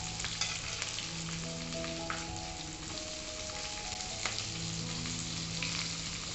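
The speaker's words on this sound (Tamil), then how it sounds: "சோம்பு பொரிஞ்சோனையும் அதிலே நம்ம மிளகாய் வத்தல், வெங்காயம் அதெல்லாம் போடணும்." Dried red chillies and onion frying with fennel seeds in hot oil for drumstick balls, a steady close sizzle and crackle throughout with a few sharp spatters and stirring scrapes, no voices.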